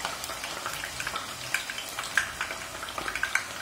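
Potato pieces fry in hot oil in a Tramontina pan, giving a light, crackling sizzle with scattered sharp pops and spits over a soft bubbling hiss.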